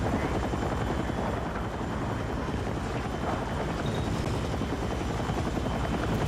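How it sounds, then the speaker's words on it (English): Loud, constant rotor thrum of a helicopter in a battle royale video game, heard close up and unbroken from start to finish, with no voices over it. "Bro, helicopter in a battle royale."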